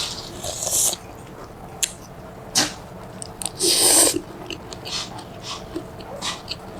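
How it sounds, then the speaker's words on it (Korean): Close-up eating of a whelk salad pasta in a Vietnamese bun cha style, with a few crisp bites and soft wet chewing in short bursts, no talking. "일단 골뱅이 없이 먹어볼게요."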